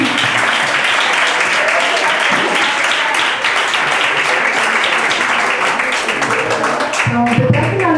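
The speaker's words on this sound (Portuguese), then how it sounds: "E vamos aplaudir o Senhor pela vida dos pastores." A church congregation applauds during a pastors' day service, with loud, sustained clapping from many hands filling the room the whole time and voices mixed into the crowd.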